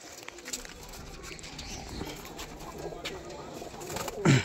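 Pigeons kept by a fancier, soft cooing and shuffling close by under a low hum of background noise, with a brief louder coo near the end.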